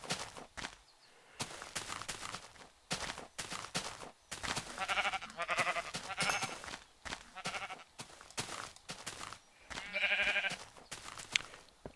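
A flock of Minecraft sheep bleats in repeated short, nasal cries, several close and loud, with soft footstep sounds and quiet gaps between calls.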